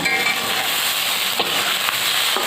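Meat frying in a hot karai pan, a dense, steady sizzle with soft crackles and no talk.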